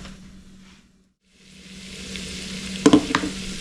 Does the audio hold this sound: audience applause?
no